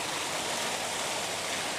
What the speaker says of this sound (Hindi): देख सकते हैं ये पानी जो फुहारा, आप लोग देख सकते हैं कितना खूबसूरत है